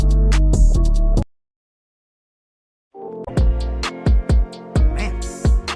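Fast trap-style beat plays loud with punchy, rapid percussive hits, cutting out abruptly to near silence before returning with choppy, stuttering drum hits and tonal elements.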